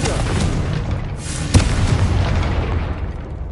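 Confringo blasting spell in Hogwarts Legacy, a booming explosion with a sharp burst at mid-clip over a dense rumbling game background, loud and close.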